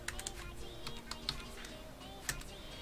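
Keys tapped on a computer keyboard while entering JavaScript code, a steady run of light clicks with a few sharper strikes, close and fairly quiet, with no talking.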